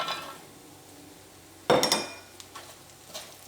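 A utensil clatters against a pan while beef pickle masala is stirred in oil, giving one sharp metallic clink followed by fainter scraping taps, close and quiet otherwise.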